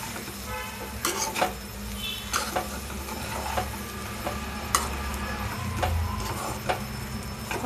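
A spoon stirs brown rice vegetable pulao, cooked with very little oil, in a pot. Irregular scraping and clinking strokes recur close by over a soft background sizzle, with no one speaking.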